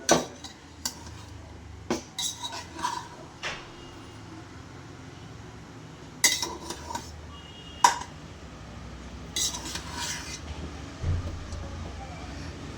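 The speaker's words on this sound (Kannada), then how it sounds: "ಈಗ ವಿಜಿಲ್ ತೆಗಿತಾ ಇದ್ದೀನಿ" Pots and utensils clattering while the whistle is taken off a pressure cooker of rice and onion in a home kitchen, sharp metallic clanks and scrapes at irregular intervals, close and moderately loud with quiet gaps between.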